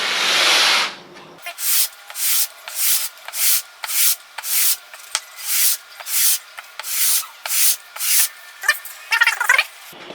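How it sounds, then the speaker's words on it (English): Rhythmic scratchy strokes of sandpaper on a wooden rifle stock, a dozen or so even back-and-forth rubs, close and alone. "have to make sure that my sandpaper doesn't slip under the other piece, because then it'll create uneven sanding"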